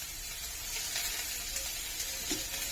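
Onion, green chilli and curry leaves sizzling in hot oil in a home kitchen, a constant bright crackling hiss with faint scattered pops and stirring noises.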